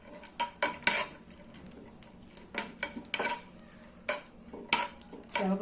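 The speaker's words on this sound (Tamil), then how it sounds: "இப்போ இதில் முந்திரி திராட்சை போட்டு வறுத்துக்கலாம்." Cashews and raisins roasted in ghee in a pan, heard as repeated metal spoon scrapes and clinks against the pan with a faint sizzle between strokes, no voices.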